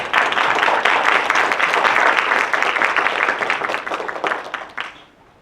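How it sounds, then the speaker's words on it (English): Audience applause for panelists at the close of a conference session, a loud, full clapping from a crowd that holds steady for several seconds, then thins and fades out. "Please give a round of applause again for our panelists."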